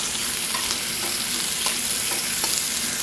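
Vegetables for a short rib sauce sizzle and fry steadily in a pan, making a continuous hiss with occasional soft stirring clicks.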